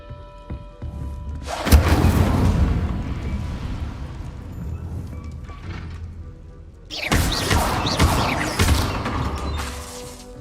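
The Incendio fire spell in a Harry Potter video game setting things ablaze: a loud whooshing burst of flame with crackling rumble, fading, then a second fiery surge several seconds later.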